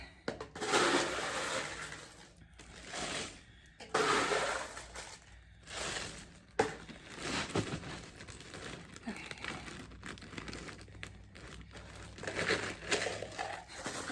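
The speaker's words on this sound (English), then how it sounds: "So what I'm going to do is I'm going to add more ice." Ice is packed into a plastic bag for homemade ice cream, making loud crunching clatter and crinkling of the bag in bursts close by.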